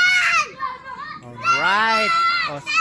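Noisy children shout and chatter close by outdoors at night during a blood moon, with high excited voices rising and falling continuously through the whole stretch.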